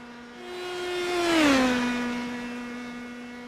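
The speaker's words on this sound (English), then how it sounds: "You hear that poor Mazda engine just absolutely shrieking down the straightaways." A Mazda-powered Indy Pro 2000 race car in iRacing at the Nürburgring shrieks past with a high, steady engine whine that swells, then drops in pitch as it passes, alone and fairly loud.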